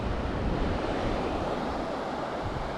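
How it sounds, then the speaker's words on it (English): Ocean surf rolls steadily onto a beach on Mexico's East Cape in Baja California Sur, a loud, continuous wash of breaking waves with some wind noise, no voices. "take a look at how beautiful this beach is"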